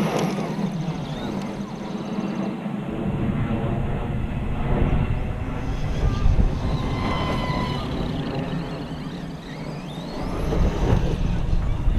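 An Arrma Kraton 4S RC car runs at full throttle across a big open field, its electric motor making a sustained loud whining roar that rises and dips slightly as it drives.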